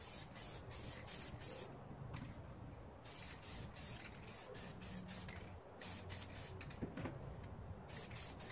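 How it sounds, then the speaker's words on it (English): Bursts of black aerosol spray paint onto an RC car body hiss in short, repeated pulses, close to the microphone, with brief pauses between sprays. "so that it will spray finer due to the added pressure here"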